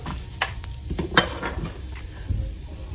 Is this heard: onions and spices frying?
yes